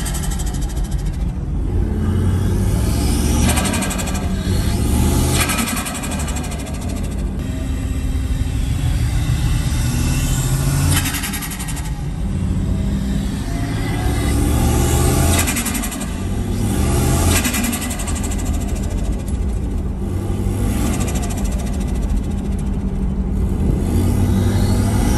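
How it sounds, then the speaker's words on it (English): A Dodge Dakota's 5.2 Magnum V8 runs with a bed-mounted turbo at 8 psi, no tune, no intercooler and PVC charge piping, giving a loud, continuous engine rumble that swells and eases. "Obviously it's running through PVC, no intercooler, straight into the charge pipe, so it's pretty hot air, but it's still running."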